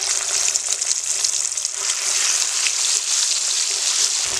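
Ground spice paste of nigella, ginger, cumin and chilli frying in plenty of oil for Bengali patol posto, a loud, even, continuous sizzle with no talk.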